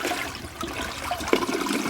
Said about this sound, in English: Everything that goes down the drain in here, or gets flushed down here,